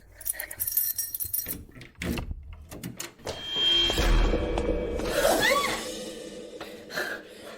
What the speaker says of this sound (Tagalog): ang susi